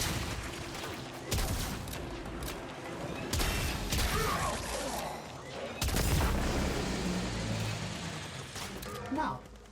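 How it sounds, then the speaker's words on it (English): Gunfire against a blast shield in the Warframe video game on PS5: several loud bursts of shots at about 1.3, 3.4 and 6 seconds over steady combat noise, with a voice speaking in the background. "I just shoot the blast shield."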